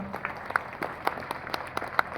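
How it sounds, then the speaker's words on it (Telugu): Scattered applause from a small audience after a group meditation session, with individual claps audible in an uneven patter, moderately loud and steady throughout. "వారికి గట్టిగా చప్పట్లు కొట్టుకుందాం."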